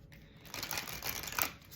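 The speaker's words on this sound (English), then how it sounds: "Let me shuffle one more time." Tarot cards shuffled by hand during a reading, a soft papery riffling and brushing that swells over a couple of seconds, close and fairly quiet, with no talk.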